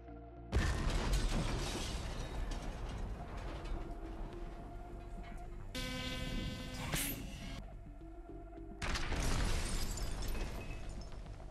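Explosions from attack drones striking bunkers in a village, a dense, continuous roar of blasts and rumbling debris with a tonal whine partway through, loud and sustained.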